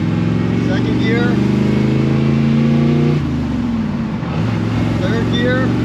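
A 1977 Chevrolet Corvette engine revs hard through the gears, loud and close, with a steady climbing drone, a brief dip at a shift, then pulling again.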